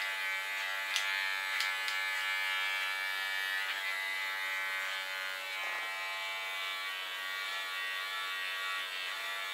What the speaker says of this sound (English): Holding my clipper in an angle, so I don't lean on the blades totally.